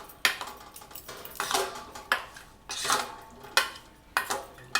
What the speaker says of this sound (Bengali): এবারে পনিরটাকে সুন্দর করে আমার মশলাগুলো মাখিয়ে নিতে হবে।